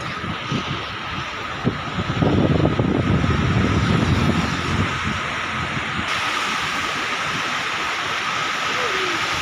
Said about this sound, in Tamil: பார்த்தீங்களா, தண்ணீரோட சத்தம் பயங்கரமாக இருக்குது